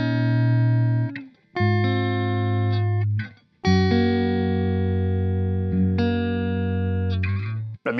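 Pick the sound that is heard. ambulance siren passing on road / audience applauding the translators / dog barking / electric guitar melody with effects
electric guitar melody with effects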